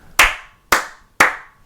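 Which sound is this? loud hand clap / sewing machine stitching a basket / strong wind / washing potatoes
loud hand clap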